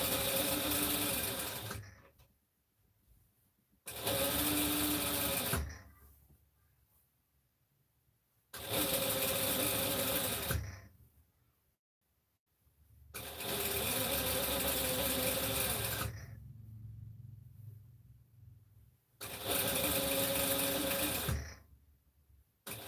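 A sewing machine stitches a regular seam on a Butterick 4790 pattern piece in repeated bursts of steady motor whir, five runs separated by quiet gaps, close and loud with no talking.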